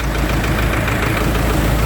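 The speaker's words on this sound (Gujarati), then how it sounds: "તો આપણે ટ્રેક્ટર ચાલુ કર્યું છે" A tractor engine runs at a steady idle on a farm during castor harvesting, a loud, close, continuous diesel knock with no voices.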